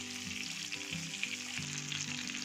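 Fish pieces fry on a flat tawa, turned to cook the second side, giving a steady dense sizzle that stays close and fairly even throughout, with no talking.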